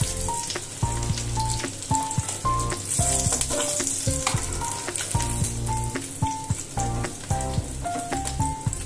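Parshe fish frying in oil for a thin Bengali curry with potato and ridge gourd, a close, steady crackling sizzle with spatters and repeated clinks of a spatula against the pan.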